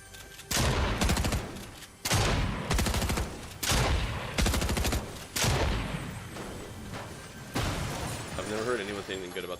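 Twin mag SMG firing in a video game, with repeated loud rapid bursts of automatic fire at regular intervals and a speaking voice at times between the bursts.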